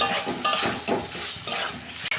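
Prawns and potatoes sautéed in spiced oil in a pan, with a lively sizzle and rapid spatula scrapes and stirring strokes, close up and fairly loud, with no voices.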